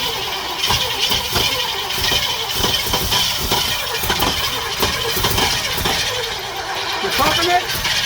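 An old bus engine is cranked repeatedly, loud, rhythmic starter churning and sputtering that continues without catching, with people talking over it.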